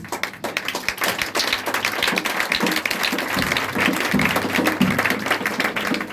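A congregation at a church service clapping in a steady, continuous applause, loud and close, with the preacher's voice faintly underneath.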